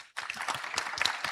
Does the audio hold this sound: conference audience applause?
yes